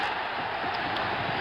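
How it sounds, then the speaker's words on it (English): A crowd roars at a boxing match between Jimmy Young and George Foreman, a dense, steady wall of noise that holds at one level throughout, with voices mixed into it. "Crowd roars again as Young continues, unafraid."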